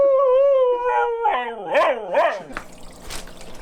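A dog lets out a loud, close howl that slides downward, breaks into a few wavering yips and whimpers, and then trails off into rustling.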